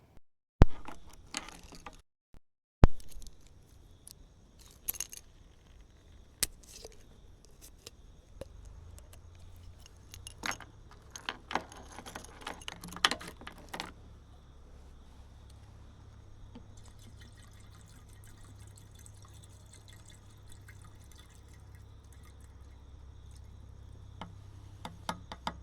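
A bottle of Prolube fuel system cleaner is opened with sharp clicks, then poured into a full fuel tank, leaving a soft, steady liquid trickle and low gurgle that goes on for a long stretch, with no talking.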